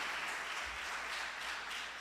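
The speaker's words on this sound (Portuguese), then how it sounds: "Quem recebe, aplauda ao Senhor bem forte nessa noite" A church congregation at an evening worship service applauds, a fairly soft, even spread of clapping from a crowd heard from some distance, steady and without speech.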